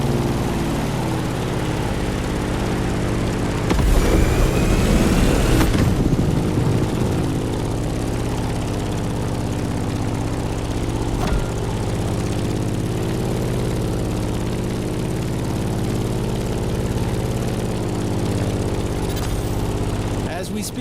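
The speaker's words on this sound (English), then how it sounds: "In the cockpit of a stunning Grumman F8F Bearcat, or simply the Bear." Propeller engine of a Grumman F8F Bearcat in The Crew Motorfest racing game, a steady droning hum running throughout, with one brief louder swell.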